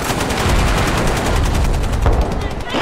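Sustained gunfire from a Gates of Hell battle with a recoilless rifle in action, a dense rapid clatter of shots and booms, loud and continuous across the whole stretch with no let-up.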